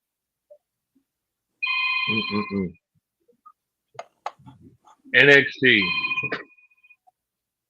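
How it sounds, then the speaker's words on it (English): A telephone rings in short buzzing bursts, one ring and then a second with a pause between, close and clear, with a few brief words spoken between them. "as the phone rings in my ear."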